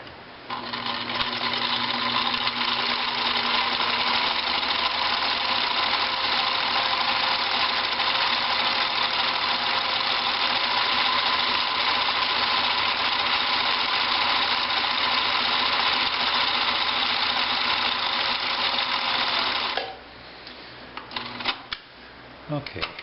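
A Pfaff 1222E sewing machine stitches a decorative pattern, moving the fabric forward and back, in a steady, loud, continuous mechanical whir that runs for about twenty seconds before stopping, followed by a few small clicks and handling sounds.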